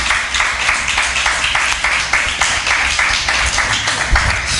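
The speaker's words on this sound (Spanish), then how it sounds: "Denle un aplauso fuerte al Señor Jesucristo." A church congregation claps together in a steady, fast rhythm that carries on without a break, filling a reverberant hall with loud, close applause.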